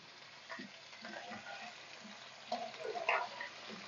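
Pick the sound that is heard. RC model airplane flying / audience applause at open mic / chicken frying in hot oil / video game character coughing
chicken frying in hot oil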